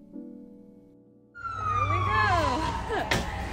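A wailing siren sweeps up and down over steady New York City street traffic rumble, loud and close, with a sharp burst near the end.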